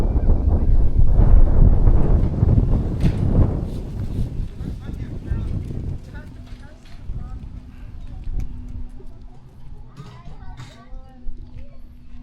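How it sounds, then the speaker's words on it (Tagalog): Wind at a beach gusting across the microphone, a loud rough buffeting roar in the first half that eases into lighter, uneven gusts, with voices faintly in the background. "Mahangin."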